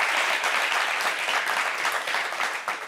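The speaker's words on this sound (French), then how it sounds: "Applaudissez pour cette dame." A television studio audience applauds a female guest on a French entertainment show, giving about three seconds of loud, dense, continuous clapping with no talking.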